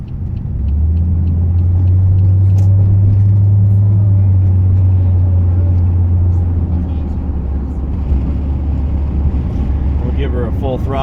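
A car engine with a removed resonator rumbles steadily from inside the cabin as the car pulls onto a highway with the windows up, a deep loud drone that holds throughout.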